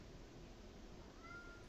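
A single short, faint meow from a cat rises briefly near the end, over a steady low hum of background noise.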